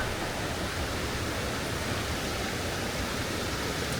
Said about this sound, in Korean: 물소리가 웅장하게 들립니다.